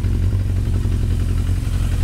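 A Japanese motorcycle engine runs loud and close, a rough, steady low rumble with a faint chattering pulse throughout.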